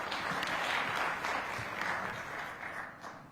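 A studio audience at a televised discussion programme applauds to welcome a guest, a full, steady clatter of many hands that eases slightly toward the end.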